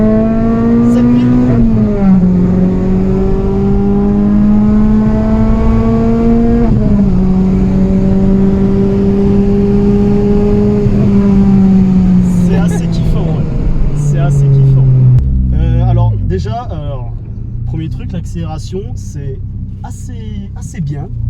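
A Renault Clio 3 RS phase 2 petrol engine accelerates hard through the gears, a loud close rising engine tone with a clear dip at each gear change. It eases off near the end while someone talks over it.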